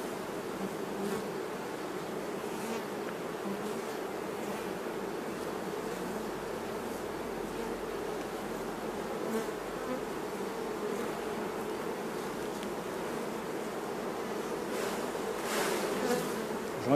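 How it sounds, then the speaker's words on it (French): Honey bees buzz steadily around beehive frames during hive work, a dense, continuous swarm hum close by, with faint handling knocks and no talking. "J'enlève un peu d'abeilles, s'il y a trop d'abeilles, on secoue un peu d'abeilles"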